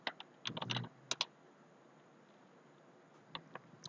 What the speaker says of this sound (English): just type pip install